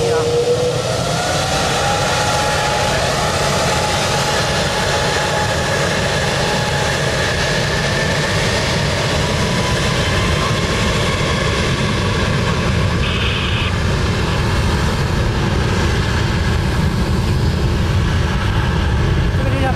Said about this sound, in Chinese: 这个是一个 A330 宽体客机啊。